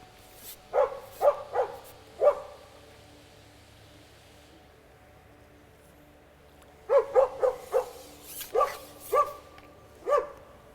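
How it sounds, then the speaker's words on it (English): A lively dog near a riverbank barks in two bursts of sharp, repeated yaps with short whiny edges, a quick cluster early and a longer run later, separated by a quiet stretch. "Very lively doggy."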